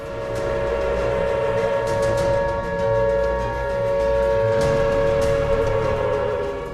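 An air raid warning siren for a wartime civil defence drill sounds alone, a loud sustained tone that holds steady with a slight dip in level partway through.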